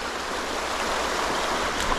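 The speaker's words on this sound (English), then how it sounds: "I haven't been to this creek in a while." Flowing creek water during a fishing trip with dogs: a loud, continuous broadband rush and babble, close and steady throughout, with no talking.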